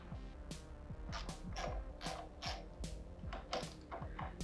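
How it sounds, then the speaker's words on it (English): An 8mm socket wrench works bolts loose on a Honda Grom MSX125 motorcycle, producing a steady run of quiet, close ratcheting clicks in an even rhythm, with no talking. "So we'll use an 8mm socket to remove the 2 bolts."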